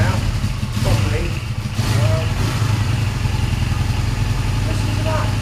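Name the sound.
1980 Honda Benley motorcycle engine running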